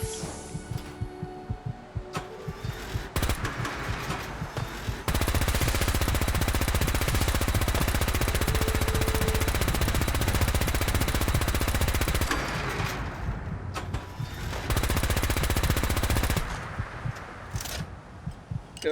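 Sustained automatic fire from a Gatling gun in Fallout 4, a dense rapid rattle of shots running loud and steady for long stretches with brief pauses between bursts, up close.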